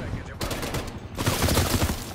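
Rapid overlapping gunfire from many weapons in Call of Duty, sustained automatic bursts rattling loudly and close, with a short lull before the volley resumes even heavier.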